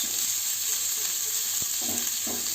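Onion with mashed boiled potato and pointed gourd pulp frying in a pan for prawn chops, giving a continuous moderate sizzle with faint stirring clicks, close by and with no voices.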